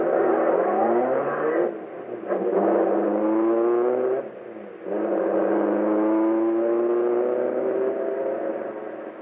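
A car engine revs and accelerates away as a radio drama sound effect, a steady loud motor roar with rising whine that dips briefly twice before continuing strongly to the end, with no talking.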